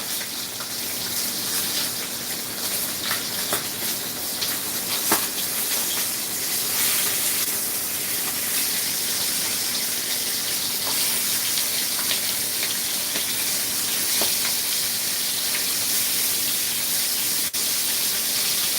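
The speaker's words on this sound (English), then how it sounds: "really just to sear and brown it at a nice high heat." Meat searing in a generous amount of hot oil over high heat, a steady close hiss and spitting sizzle that runs unbroken for nearly twenty seconds with no talking.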